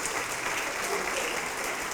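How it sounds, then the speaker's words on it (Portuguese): A church congregation applauds steadily, a dense wash of clapping hands that holds at an even level throughout. "Vamos aplaudir mais, igreja."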